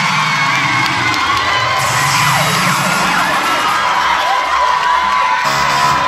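A crowd of women at a port authority gathering cheers, whoops and shouts, a loud, continuous burst of excited voices and noise sustained throughout.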